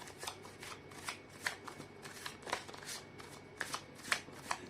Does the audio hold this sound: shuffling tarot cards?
yes